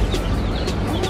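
Chickens cluck inside a cage alongside turkeys and ducks, giving a close, steady murmur of soft clucks and faint chirps with no talking.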